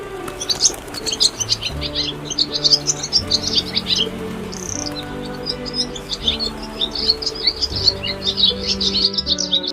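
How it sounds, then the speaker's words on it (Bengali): Dove calls and bright chirps repeat rapidly over a gentle melodic music track, lively and fairly close throughout. "ঘুঘু পাখি ডাকছে গাছে"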